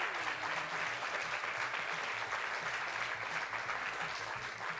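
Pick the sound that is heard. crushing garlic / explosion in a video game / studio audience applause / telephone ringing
studio audience applause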